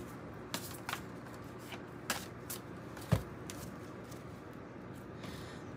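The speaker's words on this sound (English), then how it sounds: "A few more shuffles." Soft riffling and brisk slaps as a deck of tarot cards is shuffled several times, quiet and close, with no talking.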